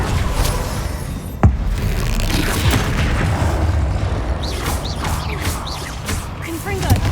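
A Confringo fire spell explodes in the Hogwarts Legacy video game, one sharp boom standing out over a dense, continuous bed of game noise and effects.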